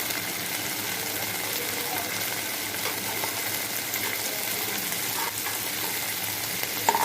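Spice paste fries in oil while being stirred down for a mixed vegetable curry with pumpkin, drumsticks and potatoes, a steady moderate sizzle with faint scraping near the end.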